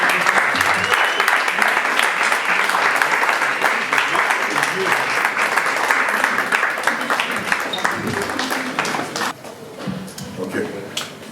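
A congregation at a tribute service in Paris for Reverend Doctor Fumumba Nkie Patrice claps and cheers in loud, sustained applause, with voices over it, before the applause thins and fades near the end.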